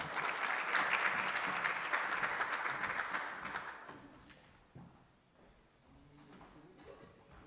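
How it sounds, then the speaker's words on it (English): Round of applause at an engagement festival, loud dense clapping for a few seconds that fades out, followed by quiet room noise, shuffling and a brief knock. "Let's give Amy a round of applause, please."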